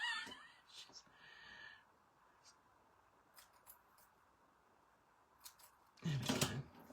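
Scissors trim craft material for a flapper-style album: a few quiet snips early on, then one loud, close cutting crunch near the end, with faint voice-like sounds at the start.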